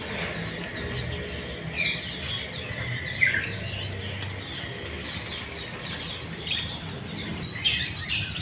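A Javan cucak jenggot bird in a bird shop gives several sharp squawking calls and chirps, scattered irregularly over a noisy background hum.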